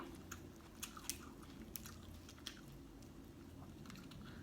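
Glass noodle salad with fish balls and crab being eaten up close, with quiet, irregular bites and soft chewing crunches over a low steady background hum.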